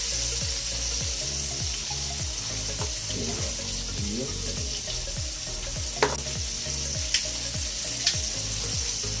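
Breaded food fries in hot oil, giving a steady, close sizzle with a bubbling, pulsing crackle throughout and a few sharp clicks near the end.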